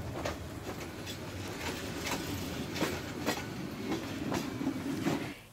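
A train runs along a rail line in Bangladesh, a steady rumbling roll with a faint, regular clickety-clack of wheels over rail joints, fairly distant and with no talk.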